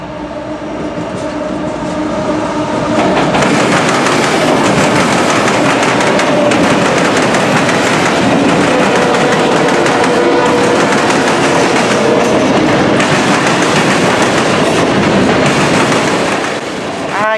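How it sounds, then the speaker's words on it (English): A loud mixed freight train rumbles steadily past at close range in central Ohio in winter, wheels clattering over the rails with a continuous roar and metallic squeals for the whole stretch. "it was for westbound train Q363, which is a daily mixed freight train"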